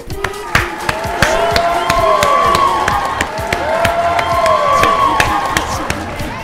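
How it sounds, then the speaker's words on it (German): Studio audience at a German comedy show bursting into loud, sustained cheering, whistling and clapping that swells and holds throughout, with crowd noise filling the room. "Bitte einen riesen Applaus"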